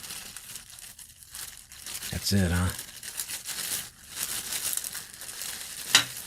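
A plastic bag from goggle repair packaging crinkles close up as it is handled, in intermittent rustling bursts, with someone speaking briefly.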